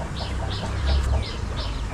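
Chickens cluck in a short series of soft, evenly spaced calls near a chicken coop, fairly faint against background noise.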